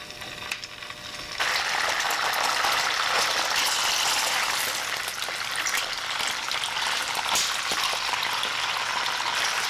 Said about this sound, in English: now that our olive oil is nice and hot and it is sizzling right now, I'm going to start putting in my fish here